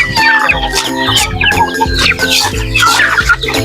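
Native chickens cluck busily at close range in a yard, overlapping calls and short clucks repeating continuously, with no talk over them.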